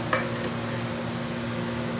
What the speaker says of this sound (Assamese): পটল আলু কেঁচা মটৰ আলু এনেকৈ ভাজিবলৈ দিছোঁ